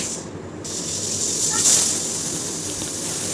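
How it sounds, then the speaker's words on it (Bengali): A pressure cooker whistles as steam vents while tadka dal cooks, a steady broad hiss running throughout with a brief stronger burst in the middle. "চার থেকে পাঁচটা সিটি দিতে হবে, যে সিটি পড়তে শুরু করেছে।"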